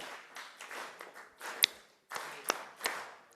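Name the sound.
congregation clapping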